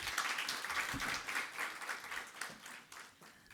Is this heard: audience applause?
yes